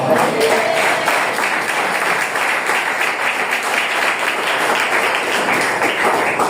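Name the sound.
church congregation clapping hands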